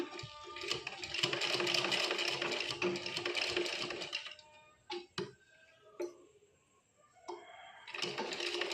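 A sewing machine stitching along the buckram edge of a blouse, running in a fast, steady whir, then stopping with a few clicks and pauses before starting up again.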